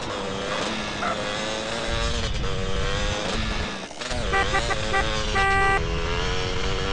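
A car driving in GTA San Andreas, its engine roaring loudly and continuously under dense game music and effects, with pitch shifts and a few horn-like tones midway.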